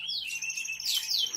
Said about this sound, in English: My birds would chirp when I'm filming a video.